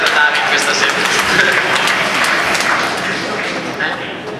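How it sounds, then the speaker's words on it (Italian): Sustained applause fills a Christmas band concert in 2007, a dense, steady wash of clapping from a hall audience that holds at an even level throughout and fades only slightly toward the end. "Facciamo un applauso a Alessia che è ancora ritardataria questa s"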